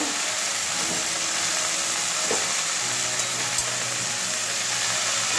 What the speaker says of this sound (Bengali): এবারে সবগুলো একসঙ্গে মিশিয়ে নেব